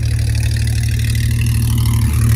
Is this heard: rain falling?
no